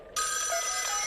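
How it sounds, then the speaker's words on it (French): A telephone bell rings once, starting abruptly and holding a bright, steady ring for about a second. "Ça ressemblait à une sonnerie de téléphone"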